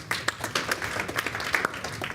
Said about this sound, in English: So warm hand of applause for Kyle